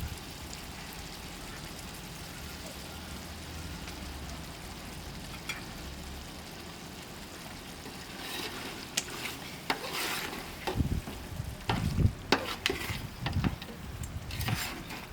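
Chicken curry with double beans and potato simmering in a pot over an outdoor fire, a low bubbling hiss that later gives way to louder clanks and scrapes of a spoon stirring against the pot.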